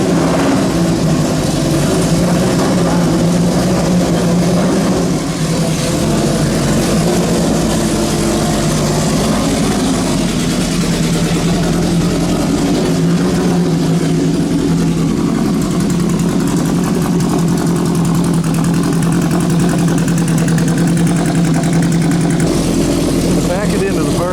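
A small Abarth classic car engine runs steadily at a concours event, a continuous mid-pitched idle hum that stays loud and unbroken throughout, with people talking over it.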